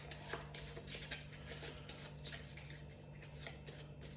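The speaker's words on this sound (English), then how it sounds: "we will now shuffle this local deck" Cards are shuffled in quick papery riffles and slides, a series of soft bursts against a faint steady hum.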